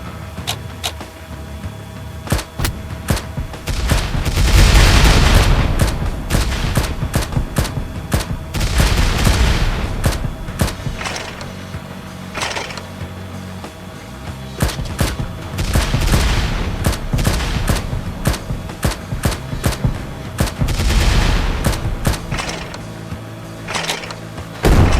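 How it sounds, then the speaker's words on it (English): Rockets and bombs fire in rapid succession in a zombie-outbreak quarantine checkpoint game, with sharp repeated bursts and loud blasts clustering in waves across the stretch, without talk. "Oh, I have rockets and bombs now"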